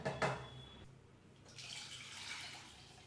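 About half a litre of water is poured into a cooking pot for jeera rasam, a soft, quiet splashing wash lasting a couple of seconds after a brief clink, with no one talking.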